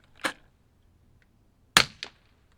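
Two sharp, quiet cracks from a .22LR rifle firing CCI subsonic rounds, spaced about one and a half seconds apart, the second followed quickly by a fainter snap, with silence between.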